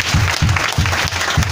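Congregation at a Christmas church service in Bregbo, Bingerville claps in a strong, regular rhythm, loud and close, with a crowd murmur under the beat.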